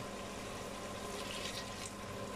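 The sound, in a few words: water poured into pan of fried turnips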